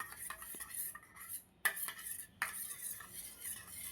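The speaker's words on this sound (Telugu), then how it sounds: "ఇది మనం అంతా ఇట్లా మిక్స్ చేసుకోవాలి" Egg, curd and lemon hair mask being mixed in a bowl: quiet wet stirring with a spoon, punctuated by a few sharp clinks of the utensil against the bowl, with brief pauses and no voices.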